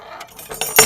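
Whisk attachments clicking into place on a kitchen mixer, a few sharp metallic clinks close by, the last one loudest and brightest.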